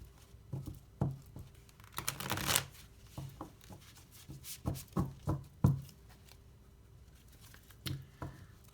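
Tarot cards shuffled by hand, with a run of crisp, close riffling and patting bursts separated by short pauses, one longer flurry partway through.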